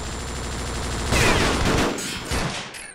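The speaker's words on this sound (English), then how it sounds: "The grease gun is a fun little gun." An M3 grease gun fires in the video game Vietcong, a loud burst of rapid automatic shots that starts abruptly, continues in a sputtering volley and trails off within a few seconds.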